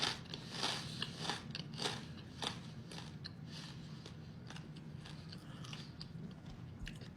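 Close, crunchy chewing of stale salt and vinegar St. Michael pork rinds, a run of sharp crackling bites and grinding chews, loudest at the start and then continuing more softly, with no talking.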